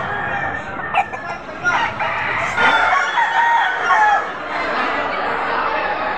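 A pumpkin sweater gamefowl rooster crows among several birds at a gamefowl market in Padre Garcia, Batangas. Repeated near crows and clucks come through steady background chatter from people talking.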